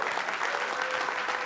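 A conference audience applauding a development team, a dense steady clatter of many hands at moderate distance, continuous and without speech.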